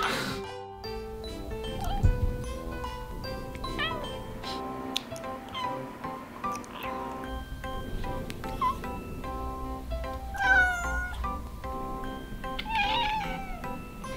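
A cat cries and caterwauls repeatedly while being bathed, its drawn-out wavering meows rising and falling close by over running water and faint voices.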